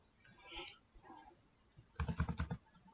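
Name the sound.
typing equal sign three times on computer keyboard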